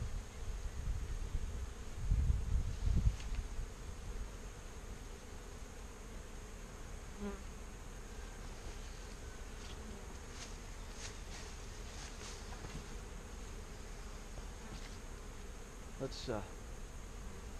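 Honeybees hum steadily around a single-box beehive outdoors among weeds, a continuous close buzzing swarm with occasional individual bees passing near, and a brief voice toward the end.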